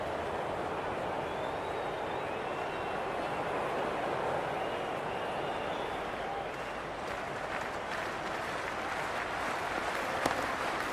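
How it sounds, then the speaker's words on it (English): A big crowd at a Big Bash T20 cricket match in the stands, a dense, steady roar of cheering and applause filling the ground, with a commentator faintly speaking underneath. "There's a buzz, a real buzz coming from the stands."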